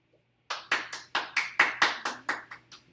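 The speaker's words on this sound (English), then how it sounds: "And the crowd goes wild." Applause in a calculus classroom: about ten distinct claps in an even, steady rhythm after a brief silence, fairly close and clear, with no talking.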